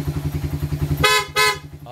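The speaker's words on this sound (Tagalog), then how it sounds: "Lipat ka sa loud horn." A Suzuki Raider R150 first-generation motorcycle engine idles with a rhythmic putter after a low-battery fix, then its loud horn blasts twice in short bursts close by.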